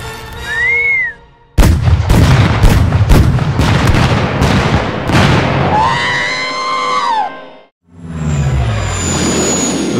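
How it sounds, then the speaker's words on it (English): Explosion effects in a Star Wars audio comic boom beyond a ridge, a dense run of loud blasts and rumbling bangs with whistling, whining tones layered over them, cut off by a short gap and then a final rumble. "Explosions just beyond that ridge."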